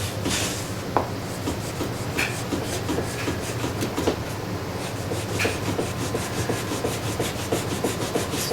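A model train track-cleaning car rubs along the rails of a CANTRAK return loop layout, giving a steady close scraping, rasping drone with faint rhythmic clicks throughout, no voices.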